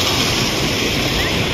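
Sea waves roaring at Paradip, a loud, continuous broadband surge that fills the whole stretch without pause.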